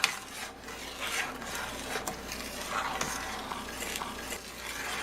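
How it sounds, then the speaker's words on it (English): Black raspberry jam at a full rolling boil is stirred in a pot, giving a continuous bubbling, scraping hiss with soft irregular swishes of the spoon and no talking. "It's a full rolling boil, and I'm going to keep stirring for a minute."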